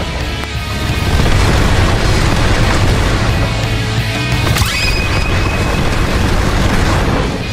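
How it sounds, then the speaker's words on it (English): A fiery shockwave explosion ends the tiger fruit Z move in a video game: a loud, sustained blast rumbles for several seconds with a sharp crack midway, and no one speaks. "Dash in with the crazy barrage and it ends with the fiery shockwave"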